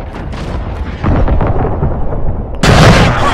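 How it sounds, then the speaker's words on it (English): Friendly precision airstrike explosions in Call of Duty: Modern Warfare, deep heavy booms rumbling loud and close, with a sharper blast hitting near the end. "Be advised, friendly precision airstrike inbound."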